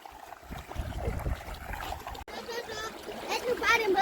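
Water from a well pump and a river motor pump gushes and splashes into a tank, a rushing, uneven spatter that grows louder toward the end, with voices talking nearby.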